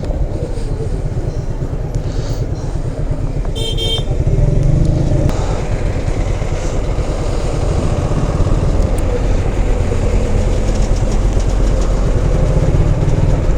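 A motorcycle rolls slowly through a congested traffic jam, its engine chugging steadily in low gear up close, with surrounding vehicle noise and a brief horn-like tone early on.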